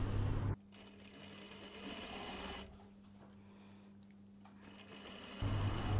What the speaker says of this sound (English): I'm stitching the seam to the wrong side of the overcast detail.